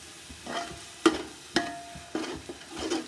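Spice paste for chicken biryani fries in oil and gets stirred, a low continuous sizzle broken by several sharp scraping clatters of the spoon against the pan, close and moderately loud.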